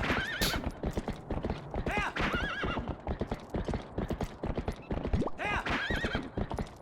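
Epona, the horse in the video game The Legend of Zelda: Twilight Princess, gallops with rapid, steady hoofbeats while several loud, high neighs ring out close by, with no talk over them.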